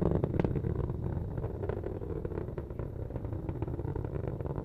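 Atlas rocket engine roaring during the launch of the X-37B space plane, about 70 seconds into flight at supersonic speed: a steady, distant low rumbling roar with crackling texture, continuous throughout.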